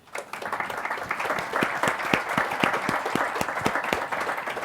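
Applause fills a packed auditorium at a book presentation, a dense wash of many hands with a few sharp individual claps standing out, steady and moderately distant.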